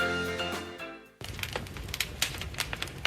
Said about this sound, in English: This is the sound of a modern wood-burning fireplace